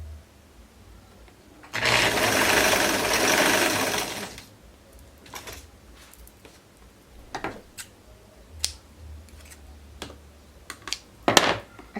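A sewing machine stitching raglan sleeve fabric runs in one loud, close burst of about two and a half seconds, then gives way to scattered clicks and small handling taps.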